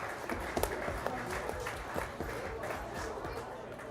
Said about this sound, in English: Let's give once again all of the Guernsey exhibitors a really nice round of applause